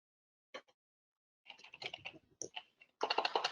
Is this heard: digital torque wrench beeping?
no